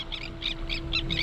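Terns calling over the open sea near a fishing boat, a series of about five short harsh calls repeating at a steady pace, fairly close and clear above a constant low engine hum.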